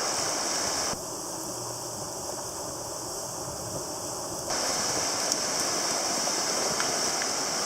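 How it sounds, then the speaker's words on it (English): A swollen river running high after heavy rain and carrying debris gives a steady, broad rushing roar that stays constant throughout, with a slight drop in level for a few seconds midway. "I've never seen this river this high"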